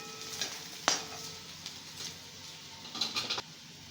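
Ginger-garlic paste sautéing in a pan for pav bhaji, a soft steady sizzle broken by a few sharp clicks and scrapes of a spoon stirring, close and fairly quiet, with no talk.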